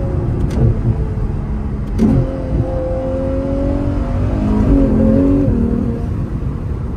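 Ferrari 812 V12 engine during downshifts, a loud sustained drone with rising and falling revs and sharp blips as gears change, heard from close by.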